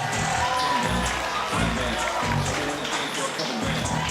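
Arena crowd cheering and clapping for the winner of a jiu jitsu match decided by a guillotine choke tap-out, a loud sustained roar with applause filling the whole stretch and an announcer's voice over it.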